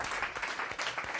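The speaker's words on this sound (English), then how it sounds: "Round of applause." A small group in a team motivation workshop claps after a sung round, a brief steady patter of close hand claps lasting about a second.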